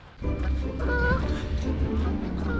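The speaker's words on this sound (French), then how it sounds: "Il y a encore des oies là." Geese honk and cackle nearby outdoors in a loud, continuous flock chorus with overlapping calls.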